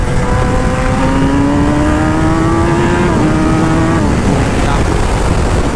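A 1000cc motorcycle accelerating hard on a highway, its engine pitch climbing steadily through gear changes under heavy, constant wind roar, with a rider's voice faintly present.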